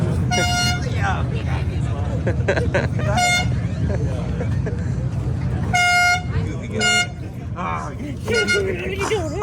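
Several car horns honk in short toots and longer blasts at a Wichita cars and coffee meet, loud and close over a steady rumble of engines and crowd chatter, with people talking throughout.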